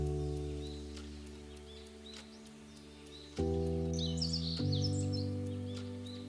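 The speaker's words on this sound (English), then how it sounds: "As the morning sun painted the sky, birds serenaded the day." Birds singing in the morning, scattered high chirps and short tweets at a moderate distance, faint and intermittent, over a loud sustained droning musical tone that steps up in pitch partway through.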